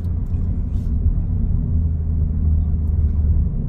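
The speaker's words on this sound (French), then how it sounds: "Vous entendez le V6 90 degrés biturbo qui fait son œuvre." A deep, steady engine rumble from the 90-degree twin-turbo V6 of an Alfa Romeo Giulia Quadrifoglio, low and continuous, with no voices.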